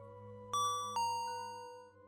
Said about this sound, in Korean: 그때 마침 또 종소리가 울리는 겁니다.